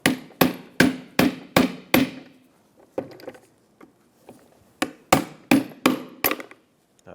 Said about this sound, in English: I'm going to use a little pry bar and very gently hammer these down.